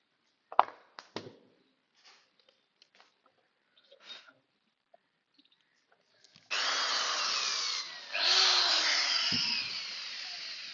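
Power drill boring holes in modular kitchen cabinet panels, several quiet taps and handling sounds followed by two sustained bursts of close, loud drilling near the end.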